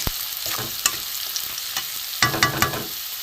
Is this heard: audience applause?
no